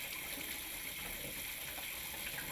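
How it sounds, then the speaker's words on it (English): Water running from a lavatory faucet as its hot and cold supply lines are flushed, a steady, even gushing stream that stays constant and fairly quiet. "Turn on both hot and cold water supplies. Flush water lines for about 1 minute."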